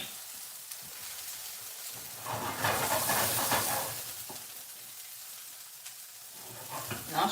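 Leftover rice and vegetables frying in a hot pan: a soft background hiss that swells into a louder burst of sizzling midway, then settles back to a quieter sizzle, with no talking.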